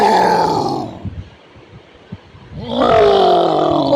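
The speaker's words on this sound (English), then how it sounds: "gorilla" A gorilla gives loud roaring bellows that open and close the clip, with a quieter gap of low grunting in the middle; no talk is heard.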